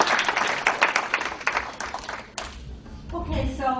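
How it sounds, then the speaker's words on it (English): Applause from a dinner audience at the Davenport Dinner, a burst of clapping that fades after a couple of seconds, followed by a voice speaking over room noise. "We also got a round of applause for great food."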